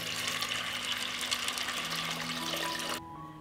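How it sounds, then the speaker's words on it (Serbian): Cold water pours steadily into a pot of cleaned beans, a continuous close splashing stream that cuts off near the end. "Očišćeni i opran pasulj stavljam u šerpu"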